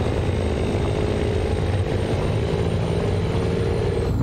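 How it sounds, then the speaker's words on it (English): A truck engine in American Truck Simulator drones steadily and loud, a constant low rumble with a faint high whine that dips slightly near the end as the throttle eases off. "I came off the throttle, as you probably all heard."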